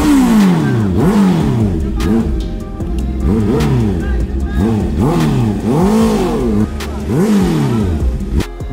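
Big bike motorcycle engines rev repeatedly on a coffee ride with a CB650R and ZX6R, loud, close throttle blips rising and falling in a rhythmic series, with voices faintly underneath.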